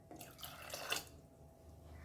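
Water trickles and splashes briefly into a pot of dal, a short burst of liquid sound that fades into a quiet hiss.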